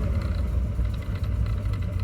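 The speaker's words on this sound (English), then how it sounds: "it's idling low so that it's not charging" A truck with a 3-valve motor idles low and steady, a close, continuous rumble with no talk over it.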